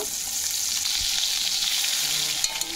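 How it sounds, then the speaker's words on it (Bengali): Spice paste fries in tempering oil for a Bengali katla fish rezala, with a constant close sizzle, spatula stirs and a couple of sharp clicks near the end. "এখন আমি ওর মধ্যে আগে থাকতে পেস্ট করে রাখা মশলাটা দিয়ে দেব।"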